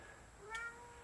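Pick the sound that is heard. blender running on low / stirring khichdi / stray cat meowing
stray cat meowing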